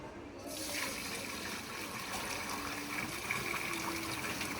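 Water pours steadily into a falsa sharbat mixture of ground falsa berries and sugar, a continuous gushing, splashing flow heard up close for the whole stretch.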